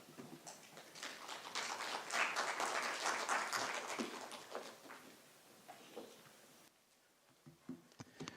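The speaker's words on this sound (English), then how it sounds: "Give him a better round of applause." Audience applause at a conference summit swells from scattered clapping into a full round, then fades to a few lingering claps near the end.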